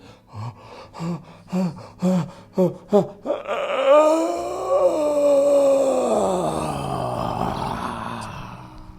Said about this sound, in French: Lance-toi dans un bâillement le plus expressif possible.